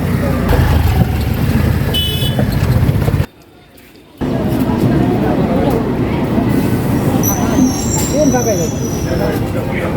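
A local train runs between Shyamnagar and Chakdaha with a loud, steady rumble and rattle of the carriage. The sound drops out briefly partway through, and voices are mixed in.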